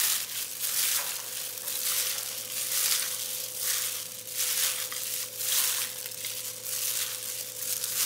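Gloved hands mix food for spicy Shanxi pulled noodles, making rhythmic squishing, crinkling strokes roughly every second, close by, over a faint steady hum.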